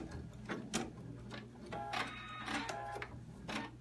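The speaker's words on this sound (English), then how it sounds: "It's doing a triple stitch to tack it down really good." Embroidery machine running a triple tack-down stitch on an alphabet pennant, giving a steady mechanical whir with rapid rhythmic needle clicks and a low motor hum throughout, close and moderately loud with no talking.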